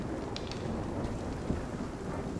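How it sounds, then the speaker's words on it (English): Rain and thunder in the Nightingale survival game, a steady hiss of rainfall with low rumbling underneath, fairly faint and continuous with no speech. "And, hey, rain!"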